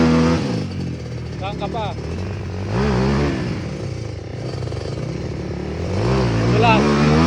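A KMX two-stroke motorcycle engine revs on a trail during a trail-riding day, its mid-pitched buzz rising and falling steadily under loud talk and shouting from nearby people.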